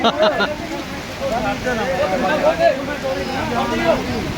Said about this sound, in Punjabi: ਲੋ ਵੀ ਮੀਂਹ ਪੈ ਗਿਆ